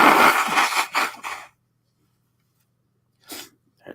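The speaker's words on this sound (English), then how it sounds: "I got to blow my nose again." A person blows their nose in two bursts, a long loud honking blow followed after a silent pause by a second shorter one, close to the microphone.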